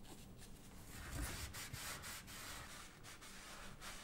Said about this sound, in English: use a small piece of sandpaper to abrade the first 20 to 30 millimeters of the duct